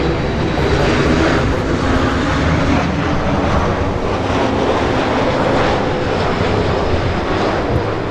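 An arriving airliner from Houston, Texas, passes at LAX with a loud, continuous engine roar that stays strong and even from start to finish.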